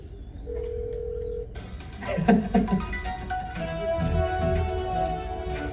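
A phone call being dialed: a short tone, then a series of keypad beeps, followed by ringing tones.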